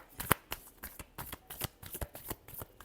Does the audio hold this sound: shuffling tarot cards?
yes